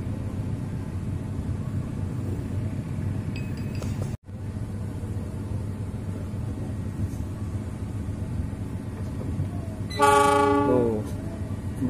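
A long, steady rumble of the Pangrango passenger train moving slowly near a bridge, with a brief loud horn blast near the end that quickly fades.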